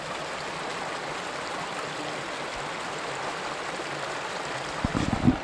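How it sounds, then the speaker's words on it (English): Mountain stream water dumping into a whirlpool on a hiking trail, a steady broadband rushing wash with a low bassy undertone, continuous and close, with a few louder splashes at the end. "You can hear like a low bassy sound where the water's like dumping into a whirl"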